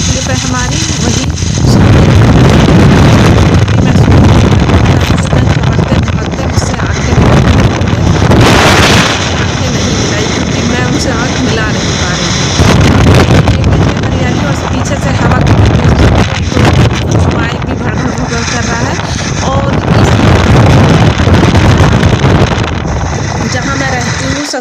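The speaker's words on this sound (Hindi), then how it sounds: "इतनी तेज़ हवा चल रही है।" Strong wind roars across open village countryside, buffeting the microphone in loud, continuous rushing gusts that swell and ease over the whole stretch, with a voice talking over it.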